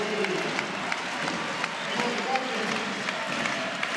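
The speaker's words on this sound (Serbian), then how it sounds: "Publika je na nogama." Volleyball crowd in a large indoor arena at a Vojvodina versus Benfica match, cheering and clapping as a continuous roar with scattered sharp claps, a commentator talking over it.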